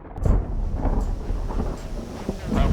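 A powerful thunderstorm under a tornado warning, with deep thunder rumbling continuously and heavily through steady rain and gusting wind, no voices.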